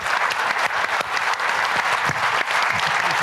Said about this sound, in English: So, applause, please.